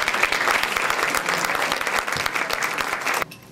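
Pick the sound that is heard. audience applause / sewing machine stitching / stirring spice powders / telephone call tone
audience applause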